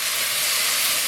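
Thick-sliced apples hitting a hot pan on medium heat, giving a steady, loud broadband hiss that holds evenly through the short moment with no talking.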